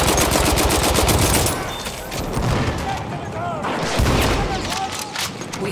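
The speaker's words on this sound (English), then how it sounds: "Machine gun over there!" Machine gun fire in the World War I shooter video game Battlefield 1, a loud close rapid stream of shots that breaks off, then further bursts and booms through a chaotic battle soundscape.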